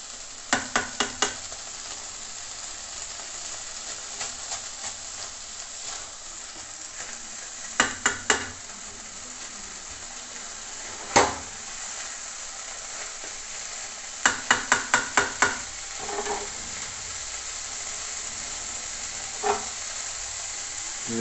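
Rice grains toasting in a pan with fried onions for a pulao, a steady soft sizzle broken by clusters of sharp scraping stirs and clinks, close and without talk.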